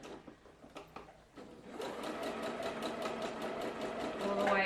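A mechanical sewing machine stitches fabric with a fast, steady run of needle strokes, preceded by a few separate start-up stitches; fairly quiet and close, with no talk.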